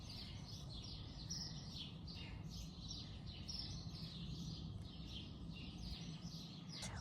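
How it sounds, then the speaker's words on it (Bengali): Small sparrows chirp in quick, overlapping bursts throughout, fairly faint against a steady low background hum, with no voices. "ছোট ছোট চড়ুই পাখিতে কিচিরমিচির ডাকছে"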